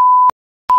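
A loud, pure censor bleep covers a spoken surname: one steady tone, a brief silence, then a second bleep that starts and cuts off abruptly.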